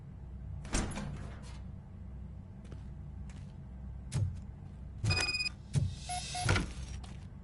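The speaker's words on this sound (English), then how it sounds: "Now let me get that door open for you." A door is worked open in a game scene, with a few separate mechanical clunks and a short whirring slide, moderately loud against a low rumbling background, no talk.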